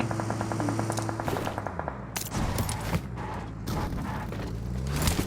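Rapid bursts of automatic gunfire from the battle-royale mobile game BGMI, loud and continuous with sharp shot clusters and a steady game soundscape underneath, no talk.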